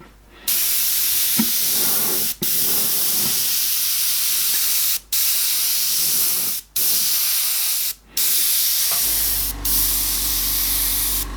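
An airbrush sprays paint in long continuous hissing bursts while a landscape is faded by drawing the brush back, broken by several short pauses, close and steady with no talking.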